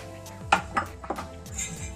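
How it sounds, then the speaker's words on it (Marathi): Roasted ingredients are moved from a kadhai onto a plate for ukalpendi, giving several sharp metallic clinks and scrapes spread across two seconds, close and fairly loud. "आता हे काढून घेऊ एका प्लेटमध्ये"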